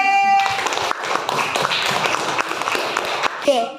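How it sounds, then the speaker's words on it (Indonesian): Children in a primary school class clapping their hands together, a burst of sharp, somewhat uneven claps in quick rhythm, close by, with a brief voice at the start and another near the end. "Tepuk tangan kelompok B."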